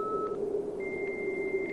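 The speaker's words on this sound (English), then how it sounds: "Almost there. Dial up." Dial-up modem connection tones from a Star Wars fan film: a steady hum under a high beep that jumps to a higher pitch, electronic and continuous over a short stretch.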